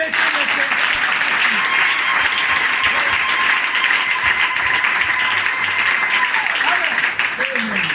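A church congregation applauds steadily through a worship service, dense sustained clapping filling the room, with voices and music faintly underneath.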